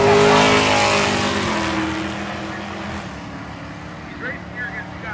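Drag racing cars, a late-model Hemi Charger against a 2016 Hellcat Charger, roar down the strip in a loud, harmonic-rich engine howl that fades steadily into the distance, with a commentator's voice over the top.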